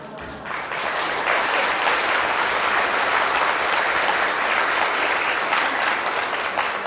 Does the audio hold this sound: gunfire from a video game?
no